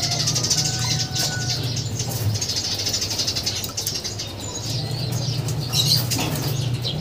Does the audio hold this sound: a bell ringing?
no